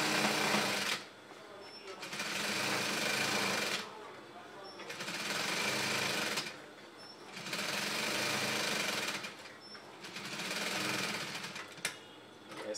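A sewing machine stitching a high bended Yoruba cap, running in three long close bursts of rapid whirring with short pauses between them.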